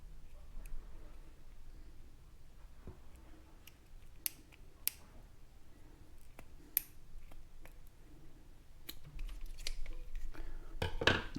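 A fuel line from a Poulan WT 200 Wild Thing leaf blower is cut in half. A few faint, sharp snips and clicks stand out against a quiet background.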